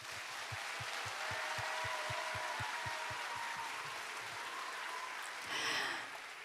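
Audience applause at the opening ceremony of an international climate industry expo, a soft, steady wash of clapping heard faintly at a distance over a low rhythmic thumping, swelling briefly near the end.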